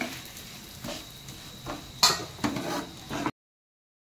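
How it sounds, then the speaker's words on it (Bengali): A soybean masala paratha fries in a pan over low flame with a soft steady sizzle, punctuated by spatula scrapes and metallic clinks as it is turned, then cuts to silence. "লো ফ্লেমে দিয়ে ভাজলে ভাজাটা ভালো হয়, তারপরে হাই ফ্লেমে দিয়ে পুরো ফুলে যায়।"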